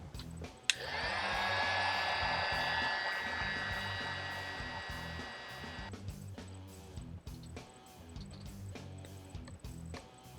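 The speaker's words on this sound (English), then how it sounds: "Now I'm going to warm up the leg with the heat gun to get this soft so that the peg will go all the way in." A heat gun softens the plastic leg of a McFarlane DC Multiverse action figure, with a sharp click and then a steady blowing roar for about five seconds before it shuts off, leaving quiet handling noises.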